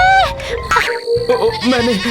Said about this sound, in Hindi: दरअसल एक बकरी है, मेरा थैला उसके मुंह में आ गया, इसलिए उसने उसे चबाना शुरू कर दिया।